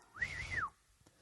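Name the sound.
man imitating whistling at birds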